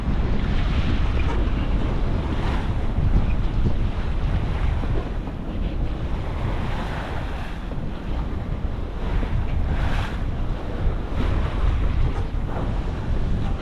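Strong, steady wind and rushing waves on the open sea aboard a sailboat bound for Alaska, a loud continuous roar with heavy wind buffeting on the microphone and no talking.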